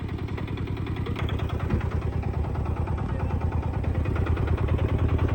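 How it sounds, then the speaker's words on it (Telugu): Auto rickshaw engine running steadily and loud as it sets off on a road near Paderu, a continuous low rumbling drone with rhythmic pulsing and vibration throughout, no voices. "చూడండి ఇదిగో మా ఆటో, మేము బయలుదేరేస్తున్నాం."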